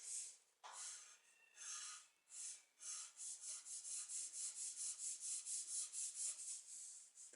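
Pencil drawing on paper, sketching an apple study with loose strokes: a run of quick, rhythmic rubbing strokes, close and fairly soft, settling into a steady back-and-forth pattern with no talk.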